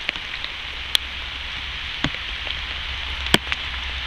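Rain falling outdoors during a fire-starting attempt with wet birch bark, a steady patter with occasional sharper drops striking close by, and no talking.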